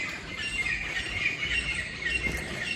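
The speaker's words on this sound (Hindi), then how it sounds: "इतनी प्यारी प्यारी चिड़िया की आवाज़ आती है" Small birds chirp and tweet outdoors in the early morning, a steady overlapping chorus of high calls at moderate distance with no talking.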